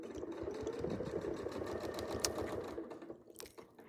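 Sewing machine stitching a quilt with a ruler foot, a steady fast mechanical chatter running continuously up close, slowing and ending near the finish.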